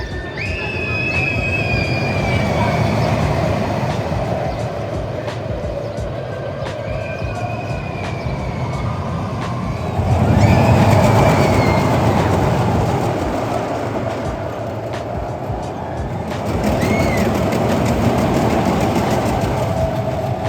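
The Tom and Jerry Tivoli family roller coaster at Parque Warner Madrid rumbles loudly along its track. Wheels screech and squeal and the train's noise swells and fades as it circuits, with no voices heard.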